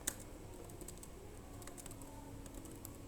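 Keys tapped on a computer keyboard while code is typed, a few faint scattered clicks over a steady low room hum, with no talking.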